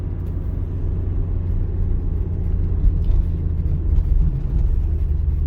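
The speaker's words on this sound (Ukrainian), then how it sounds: "Зараз у мене друга передача і також там десь 35 км на годину." A car in second gear at about 35 km/h on a city street during a driving lesson gives a steady, close, low engine rumble with road noise, unbroken throughout and with no talking.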